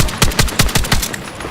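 Machine gun fire in the shooter Battlefield 6, a close, loud burst of about six evenly spaced rounds ending in a brief tail.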